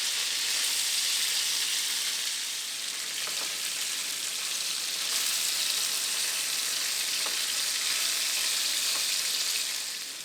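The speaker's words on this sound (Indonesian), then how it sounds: "Kita masak bawangnya selama 2 menit sampai dia agak kecoklatan." Garlic fries in a pan, browning over a couple of minutes, giving a steady, close sizzle and crackle with soft spattering throughout and no talk.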